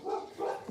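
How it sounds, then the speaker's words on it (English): A boxer bulldog barking indoors in the background, two muffled barks in quick succession, fairly faint and slightly distant. "Yeah, so that's my dog in the background. Just barking like crazy."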